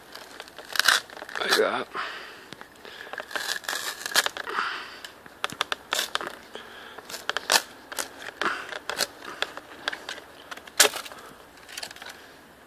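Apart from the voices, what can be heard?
stripping large sections of lime bark by hand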